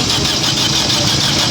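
A Suzuki Liana with a blown head gasket and overheating trouble is cranked on the self-starter, a steady loud whirring engine noise close by with no pauses.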